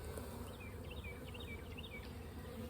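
Honey bees buzzing over hive frames in a beekeeping yard, a dense steady hum with individual bees whining past up close, no voices.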